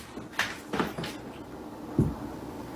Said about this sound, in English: Something opens that door.